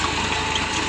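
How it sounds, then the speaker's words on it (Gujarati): A tractor engine running steadily at a farm during wheat sowing, a close, loud, even mechanical drone with a low rhythmic throb and no voices. "તો ટ્રેક્ટર ચાલુ થઈ ગયું છે।"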